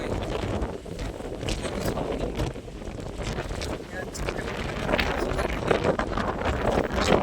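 Strong wind roars and buffets the microphone throughout at Nathsagar dam in Paithan, steady and loud with gusty surges, with a voice speaking faintly beneath it.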